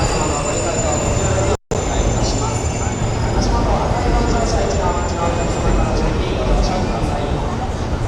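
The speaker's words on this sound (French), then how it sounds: "Et le métro arrive à l'instant." An Osaka metro train pulls into the station, a steady rumbling roar with faint high metallic whines that fills the whole stretch, broken by one brief cut near the start.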